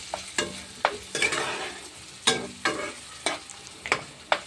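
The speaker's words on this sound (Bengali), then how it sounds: "এইভাবে হাতার সাহায্যে আপনারা একটু নেড়ে ছেড়ে নিতে পারেন" A ladle stirring bay leaves and garam masala in a frying pan for a Bengali chicken malai curry. The stirring gives sharp, irregular scrapes and knocks over a low, steady sizzle of hot oil.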